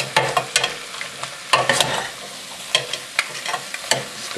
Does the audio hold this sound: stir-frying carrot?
yes